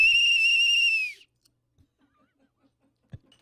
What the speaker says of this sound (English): I need a better whistle.